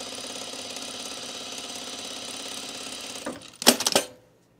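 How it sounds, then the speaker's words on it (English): A sewing machine stitches a 5/8 inch seam on a pair of pants, a steady close hum and needle chatter for over three seconds, then stopping with a few louder clunks and rustles. "So I'm going to sew this at a 5/8 inch seam."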